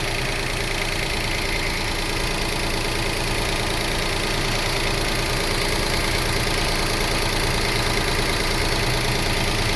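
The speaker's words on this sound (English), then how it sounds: "We're running and we're in control of idle" A 2005 Toyota Passo engine running at idle while its no-start fault is diagnosed, a steady, dense and loud mechanical drone that holds constant throughout with no voices.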